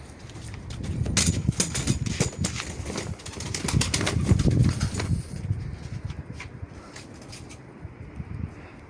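Mardin pigeons flying outdoors on a cool evening, with bursts of wing flapping and fluttering that are loud at first and then fade, leaving faint scattered sounds.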